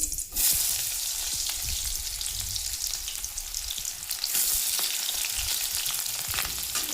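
Chopped onion sizzles hard in smoking mustard oil with cumin and dried red chili for a fish curry, a sharp burst at first settling into steady, close frying with stirring scrapes and clatter.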